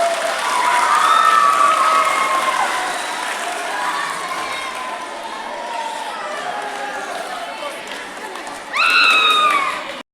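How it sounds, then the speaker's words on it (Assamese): Students at a college event burst into applause mixed with cheering and shouting, loud at first, easing off, then swelling again near the end, with voices talking over the clapping. "এটা হাত চাপৰি দিয়া।"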